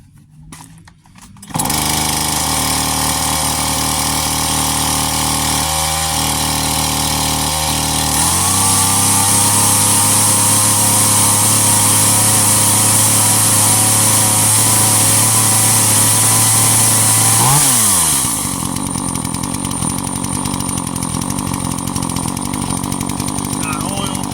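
A gas chainsaw starts and runs loudly and close, idling with a steady buzzing drone, revving higher for several seconds, then dropping back down.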